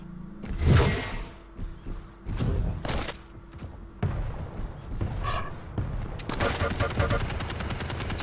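Machine gun fire in Quake Live, rapid bursts of gunfire mixed with thuds and whooshing game effects, under steady commentary from a caster, ending in a long sustained stream of shots.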